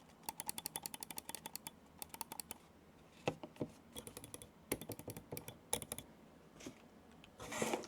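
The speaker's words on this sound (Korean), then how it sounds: "이제 클릭 소리 들어보도록 하겠습니다" Epomaker Nex Pro wireless gaming mouse buttons clicking close up, with bursts of rapid sharp clicks and some slower single presses, loud against a quiet background.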